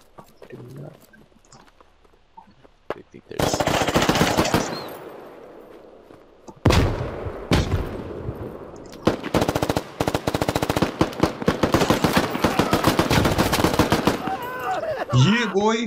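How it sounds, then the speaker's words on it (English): Gunfire in the video game Squad sprays a wall, loud close bursts of rapid automatic shots with single cracks in between, then a long sustained burst with brief pauses, and a voice speaks briefly near the end. "I'm just shooting at the wall, okay?"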